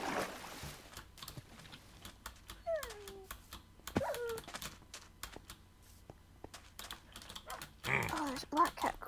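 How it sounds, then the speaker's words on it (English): Black cat in Minecraft giving a couple of faint meows amid steady clicking of a computer keyboard, with brief sliding game sounds in between. "Oh, there's a black cat, cool."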